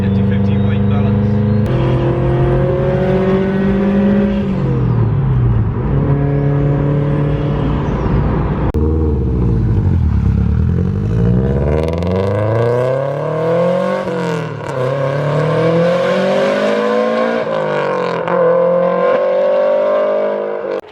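A 506bhp Subaru Impreza with a 2.1-litre stroker engine accelerates hard through the gears, its loud, close engine note climbing in pitch, dropping at each shift and climbing again, repeated several times.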